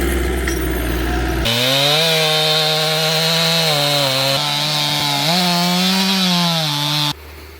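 A chainsaw roars loudly and close, its engine pitch rising and falling as it bites into wood during forestry work in Bulgaria, running steadily for several seconds.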